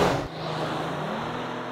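A 2022 Jeep Grand Cherokee L drives in sport mode on a wet road, its engine and tyre roar a steady close-up drone after a brief louder start.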